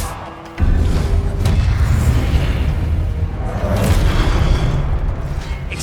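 Booming Expelliarmus spell impact in a Hogwarts Legacy wizard duel, a sudden loud blast near the start rolling into continuous rumbling, crackling battle noise that stays heavy to the end.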